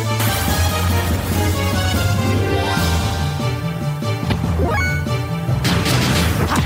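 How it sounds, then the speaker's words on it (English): A glass-shattering battle transition effect from the video game Xenogears: a loud crashing burst, with the break layered over dense, sustained game music and no speech. "the screen blows apart in a really cool glass shattering effect"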